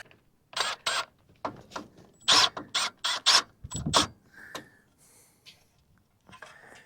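A screw is driven into a freshly made hole while installing a Brake Buddy breakaway system, giving a series of close, loud ratcheting clicks and mechanical turning bursts that stop partway through, followed by quieter handling noises.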